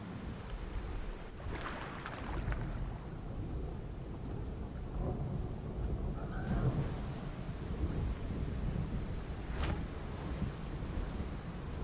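Steady rain pours throughout a nighttime storm in the Path of Titans dinosaur game, with thunder rumbling and a couple of sharper cracks of thunder breaking through the constant downpour.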